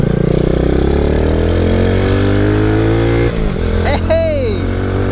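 A Boom Vader motorcycle, a Grom clone, drones loudly and steadily while riding a twisty road, its engine note rising and falling slightly, with a short voice cutting in near the end.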